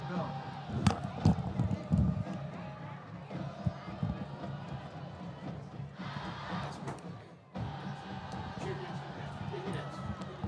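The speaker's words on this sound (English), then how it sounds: "The Indianettes there still cheering on the Harlandale Indian defense" Indianettes cheering from the stands at a Harlandale high school football game in Alamo Stadium, a distant crowd roar with scattered thumps and shouts. An announcer's voice runs over it.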